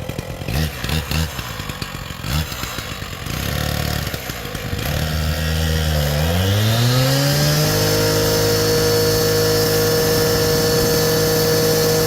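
A power saw cuts through a full clay brick to shape a plinth brick, a loud, continuous whining roar with rattling bursts early on before the pitch bends and settles into a steady high grind.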